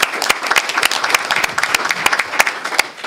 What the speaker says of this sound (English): So round of applause for soccer.